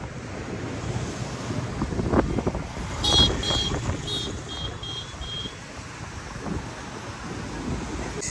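Wind blows hard across the microphone on a trip to Daman, a constant roaring rush with surf-like swells and a faint distant high tone partway through.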